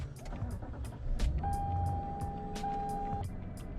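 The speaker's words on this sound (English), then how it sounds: "So let's go ahead and start the car." Starting a 2017 Lexus LS460: a steady electronic chime sounds for about two seconds over a low idle rumble, with light clicks from inside the cabin.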